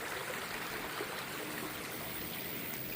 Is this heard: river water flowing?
yes